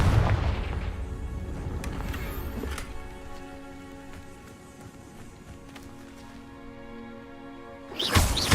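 In Hogwarts Legacy, a Confringo blasting spell lets off a booming explosion at the start, fades through a ringing tail, and is followed by a sharp burst near the end.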